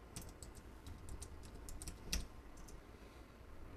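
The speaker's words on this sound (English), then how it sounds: "We need to type the name of the new database, which is restaurant, into here and then click refresh." Quick key taps on a computer keyboard while entering a database name in MySQL Workbench, an irregular close patter of clicks with one sharper keystroke partway through, quiet and with no talking.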